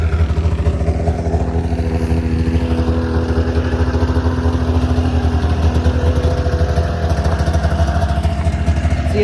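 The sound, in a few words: ZL 500 snowmobile engine running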